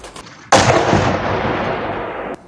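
Shelling in the war-torn city of Bakhmut, a single loud explosion erupts suddenly and rumbles on for nearly two seconds before cutting off, with no voices.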